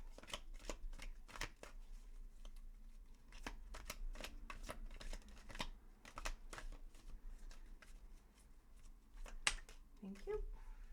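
Tarot cards being shuffled close by in repeated crisp riffles and flicks, a steady rhythmic run of dry papery snaps for several seconds.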